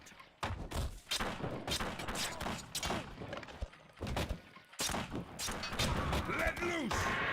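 Gunfire and explosions from units in the real-time strategy game Battle Realms 2: repeated sharp bursts and thuds mixed with game music and sung vocals, moderately loud and dense throughout.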